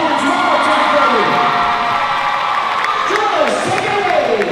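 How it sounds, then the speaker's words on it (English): A large audience cheers, whoops and shouts for dancers at a Hura Tahiti award ceremony, a loud continuous crowd roar with rising and falling whistles and voices. "Great big applause for them as they dance one more time for me."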